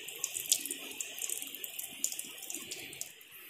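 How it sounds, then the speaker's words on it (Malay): Water drains from a car engine's radiator cooling system in a thin, trickling splash that runs unevenly for several seconds, close and fairly faint, with no talking. "Saya akan buang dia punya air agak-agak dia punya coolant boleh muat dalam radiator."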